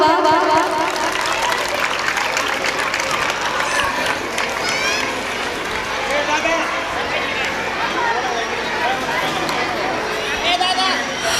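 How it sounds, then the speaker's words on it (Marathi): Applause at a school annual gathering's inauguration, a large audience clapping steadily with crowd chatter and voices mixed throughout. "कार्यक्रमाचं इनॉग्रेशन होत आहे तर जोरदार टाळ्यांचा असा प्रतिसाद आपण द्यावा"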